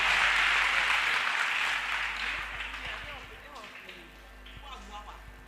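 A church congregation bursts into loud applause and acclamation for the Lord, the clapping swelling at first then slowly thinning, with voices shouting over it.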